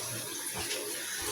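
Tap water runs steadily while items are washed under it in a kitchen sink, a close, continuous splashing rush with no talking.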